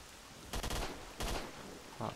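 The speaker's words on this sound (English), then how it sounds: "Where is he shooting me from?" Gunfire in the video game S.T.A.L.K.E.R.: Shadow of Chernobyl, two rapid bursts of crackling automatic shots followed by a brief third sound, fairly faint and with no talk.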